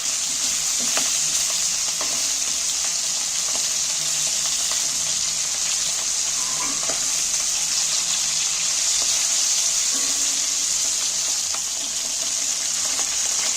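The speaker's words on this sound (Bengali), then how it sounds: "আমি হালকা করে একদম হালকা করে একটুখানি এপিট ওপিট করে তেলের মধ্যে নিয়ে নিয়ে খাবো" Hilsa fish pieces fry lightly in hot oil, a steady close sizzle and hiss running unbroken throughout with a few faint clinks of a utensil turning the fish.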